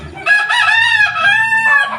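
A rooster gives one loud, close cock-a-doodle-doo crow lasting most of the moment, clear and alone with no talk.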